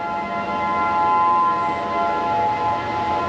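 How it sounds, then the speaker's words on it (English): A tornado warning siren sounds during a Saturday outdoor warning system test, a loud, sustained, steady wailing tone with rich harmonics that holds without a break and with no voices over it. "If you hear these sirens, you need to get in your shelter."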